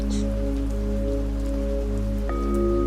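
Steady rain patters on without a break, spread evenly beneath a sustained, droning musical backdrop that holds throughout.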